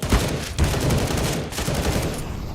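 Galil rifle fire in Counter-Strike on the Inferno map during a pro esports match, heard as dense, sustained bursts of gunfire and game action that fill the whole stretch at steady loudness.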